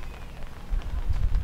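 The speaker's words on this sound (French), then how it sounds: "Et là, on a même droit à la pluie, hein? On a même droit à une petite pluie." Light rain patters steadily at an outdoor dog competition, a soft diffuse hiss of drops on surfaces with low rumbling background noise.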